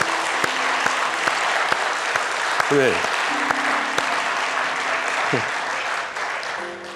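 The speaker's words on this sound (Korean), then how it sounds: "우리 다시 한번 박수 올리겠습니다" Sustained applause from a church congregation fills a Korean Sunday worship service, a dense steady patter of many hands with a voice briefly speaking over it near the end.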